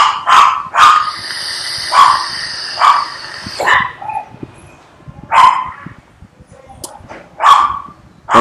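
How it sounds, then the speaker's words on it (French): Dogs bark repeatedly in loud, close, sharp bursts, some in quick doubles, with short pauses and a few fainter yips between them. "ces chiens, ces clébards qui aboient constamment"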